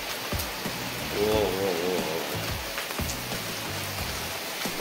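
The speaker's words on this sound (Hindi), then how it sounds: "बारिश बढ़ गई है, हो बूंद देखो कितनी बड़ी बड़ी गिर रही है।" Heavy rain pouring down in big drops, a dense steady patter close by, with a man's brief exclamation over it.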